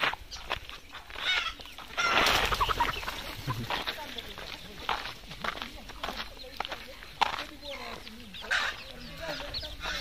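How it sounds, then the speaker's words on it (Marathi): Chickens clucking in a village yard near a tiled-roof house and a well, the calls mixed with steady outdoor background noise at moderate level, a louder burst around the middle. "कोंबड्या"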